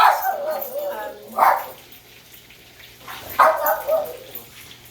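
A dog barks at night in a home, giving a few separate bursts of yipping barks that sound close and loud, with brief quiet gaps between them.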